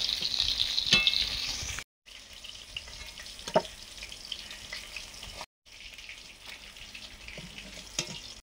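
Malabar spinach stalks fry in a pan, a steady close crackling sizzle with stirring scrapes and brief gaps, no voices.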